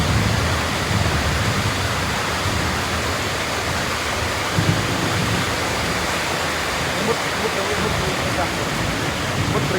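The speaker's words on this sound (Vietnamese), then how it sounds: "Trời mưa rất là to." Heavy rain pours down over a village, a dense, loud and unbroken hiss that fills the whole stretch without letting up.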